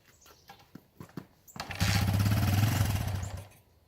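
A 1980 Honda CB125 motorcycle is kicked over a few times with soft clunks, then its small single-cylinder engine catches and runs with a close, rapid putter for about two seconds before dying away.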